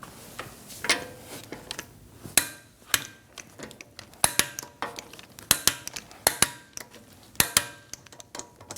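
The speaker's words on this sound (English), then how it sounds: "let's torque our lug bolts to 103 foot-pounds in a star form pattern." A wrench torques the lug bolts on a 2009-2017 Audi Q5 wheel, producing a series of sharp metallic clicks and clinks in irregular bursts, close and loud, with no talking.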